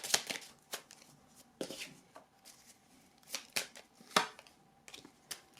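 Playing cards drawn and laid down during a card reading, heard as several short crisp slaps and shuffles in an uneven rhythm, close and fairly quiet, with no talking.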